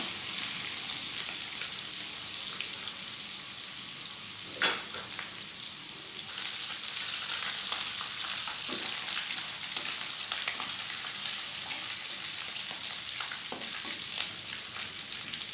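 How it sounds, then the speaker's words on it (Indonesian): Anchovies (teri) fry in a pan while preparing home-cooked Indonesian vegetable dishes, giving a steady bright sizzle with occasional louder pops and crackles throughout, close and continuous with no talking. "sekarang aku mulai goreng terinya ya"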